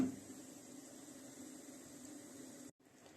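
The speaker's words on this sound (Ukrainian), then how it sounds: "Кипить наша картошечка" Steady bubbling hiss of water boiling with potatoes in a pot for soup, close and even, cutting off briefly near the end.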